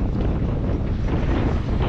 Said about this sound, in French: Le vent s'est un peu renforcé